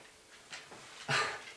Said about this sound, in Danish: det var min hund, undskyld